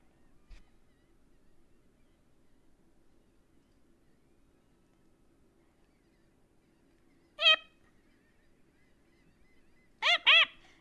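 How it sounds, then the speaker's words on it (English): Gulls give a single short call partway through, then two quick calls in a row near the end, fairly clear and close over an otherwise quiet background with a faint low hum. "Gulls!"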